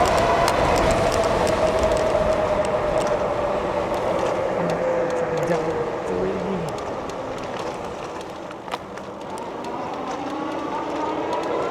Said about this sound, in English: I gotta secure that fender better. Definitely rattling like crazy.